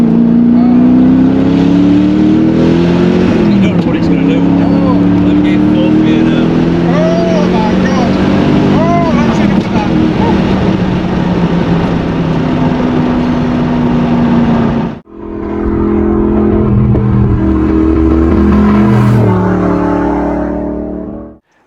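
A Noble M600 supercar accelerating hard, its engine note climbing and falling through gears in a loud, sustained roar, briefly cutting out before surging again, with people talking inside the car over the engine.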